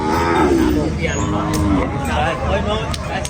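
At a busy livestock market in Na Mueang Noi, water buffalo low with deep, drawn-out moos amid a steady hubbub of crowd noise and people talking nearby.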